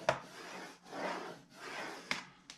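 A scoring tool draws along a 12 by 11 inch sheet of paper for bag making, giving three soft, steady rasping strokes, each about half a second long, with light taps between them and no talk.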